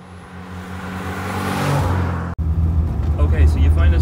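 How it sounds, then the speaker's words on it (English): A Mini's engine drones steadily from inside the cabin on country roads in County Armagh, rising slightly in pitch as it accelerates, with a brief dropout before the motor hum resumes. "We're out for a drive around the country roads of County Armagh."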